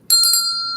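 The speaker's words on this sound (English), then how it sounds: "If you hit the notification bell" A notification bell sound effect rings once, a bright clear ding that sustains and slowly fades, heard alone.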